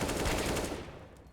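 AK-47 fire in a Counter-Strike match: a brief, fairly faint burst of rapid shots that dies away within a second.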